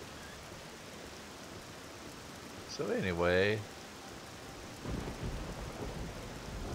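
Rain in OpenMW keeps up a constant hiss while a low rumble of thunder rolls in after a brief spoken remark from a man.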